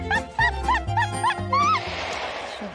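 A dog lets out a quick run of about seven short, high, whining yips in a steady rhythm, close and loud, then falls to a softer breathy whimper with background noise, with no talking over it.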